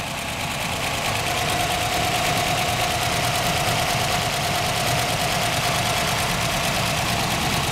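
A 1960 Mercury half-ton truck idles steadily through its exhaust, with the right manifold feeding into the left, giving a constant, even engine rumble with a faint steady whine, close and unbroken with no talking.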